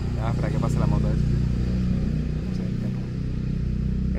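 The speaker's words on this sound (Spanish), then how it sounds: "espera, que pase la moto esa" A motorcycle passes along a street, its engine droning steadily and loudly throughout while a person talks over it at the start.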